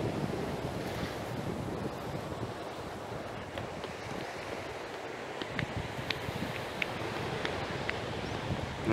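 Sea waves wash onto a beach at Phan Thiết where people are swimming and surfing, a steady broadband roar of surf with gusts of wind buffeting the microphone throughout.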